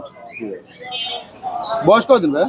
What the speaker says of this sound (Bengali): একটা ময়না পাখি না